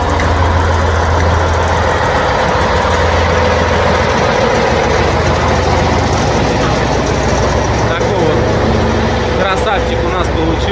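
A Kirovets K-700 tractor's engine runs steadily as the tractor is handed over and loaded for transport, a continuous low rumble with a strong, constant drone through the whole stretch and some voices in the background.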